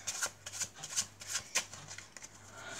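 A spectator shuffles a deck of playing cards during a close-up card trick, producing a series of quick crisp riffling bursts at close range, alone with no talking.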